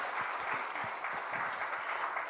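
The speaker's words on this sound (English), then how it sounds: "The applause is loud" Applause at a health and wellness summit, a soft, distant, even patter of an audience clapping, faint and continuous throughout.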